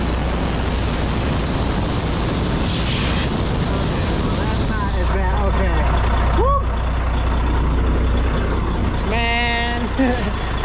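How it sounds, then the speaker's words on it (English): Air hisses loudly and steadily from a busted air line on a corn harvest truck, a broad continuous rush with engine rumble beneath, and a brief beeping tone toward the end. "I thought I just busted an airline."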